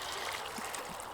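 Hot water mixed with chicken stock trickles and splashes into a pot for soup, a faint brief steady pour.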